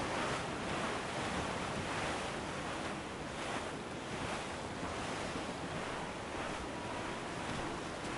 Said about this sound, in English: There's a strong wind now.